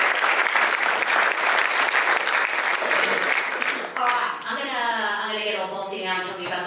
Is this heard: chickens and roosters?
no